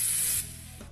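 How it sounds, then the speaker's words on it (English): Spray can hissing in the Dayshift at Freddy's video game, a loud, steady burst of spray lasting about half a second before cutting off to quiet room noise. "Yeah, I need to spray you."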